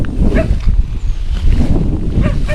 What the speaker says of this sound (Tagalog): Pasensya na po kayo, mahangin.